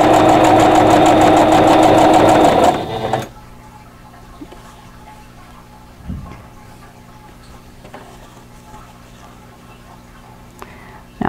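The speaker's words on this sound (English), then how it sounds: "And this is chain piecing, just one piece after the other." A sewing machine runs in a fast, steady mechanical whir while chain piecing quilt block pieces one after another, then stops abruptly, leaving a quiet room with faint handling clicks and rustles of fabric.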